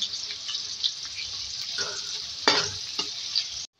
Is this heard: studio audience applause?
no